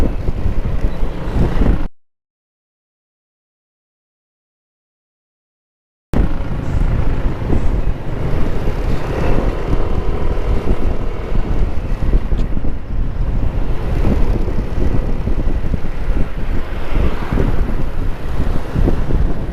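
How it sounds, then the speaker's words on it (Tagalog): Strong wind buffets the microphone in a rough, continuous roar, broken by a few seconds of total silence early on. "Malamig yung simoy ng hangin."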